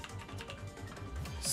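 Rapid typing on a computer keyboard during a kanji typing game, a quick run of light clicks and key taps at close range with steady rhythm.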